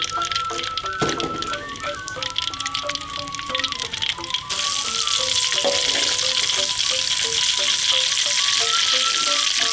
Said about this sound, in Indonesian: yang terakhir kita akan goreng terasi.